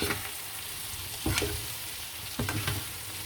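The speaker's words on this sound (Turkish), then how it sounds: "Böyle en son tavaya bunun hepsini döküyoruz ve harmanlıyoruz." Food is stirred and mixed in a frying pan over a steady sizzle, with two short bursts of utensil scraping and clatter against the pan.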